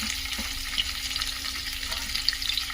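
Onion and curry leaves frying in a pan for a gongura dried prawn curry, a close steady sizzle with soft stirring scrapes and a faint steady hum underneath, no talking.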